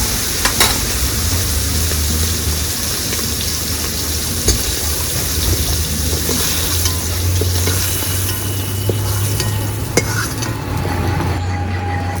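Potatoes frying in hot oil in a pan after prawns were cooked in it, with a continuous loud sizzle and occasional metal stirring scrapes and clinks, close and without talk.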